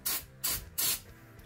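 Three short hissing bursts from a spray nozzle spraying cleaner into a 2007 Harley-Davidson FLHTCU transmission case, evenly spaced, close and fairly quiet.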